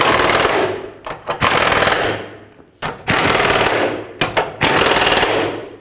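Bursts of loud, rapid mechanical rattling from an impact gun drive in the smaller 18 mm sway bar bolts on a 2007–2009 Saturn Aura front suspension, in several long runs broken by short pauses.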